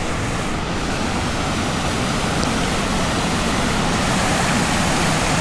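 A waterfall in the Laurel Highlands spilling into a small creek pool, a loud, steady broadband rush of falling water that fills the whole stretch without pause or voices.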